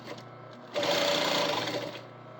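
Sewing machine stitching fabric in a circle for a costume hat, one steady continuous run of stitching after a short quiet start, loud and close.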